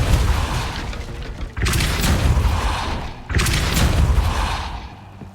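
The Depulso spell is cast in the video game Hogwarts Legacy, producing two loud, heavy whooshing blasts, each a sudden burst that trails off slowly.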